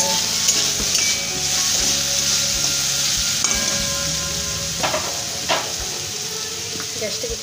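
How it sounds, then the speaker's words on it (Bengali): Potatoes fry in a pan with a loud, steady sizzle while a spatula stirs and scrapes them, giving a few sharp knocks against the pan. "তার আলু ভাজাটা নেড়ে নিই"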